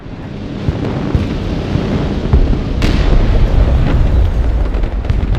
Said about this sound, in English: Did I just see a ballistic missile kill an aircraft?